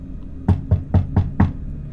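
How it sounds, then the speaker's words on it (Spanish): Five firm knocks land on a door in a quick, slightly uneven rhythm, close and sharp against a quiet background. "alguien tocó mi puerta"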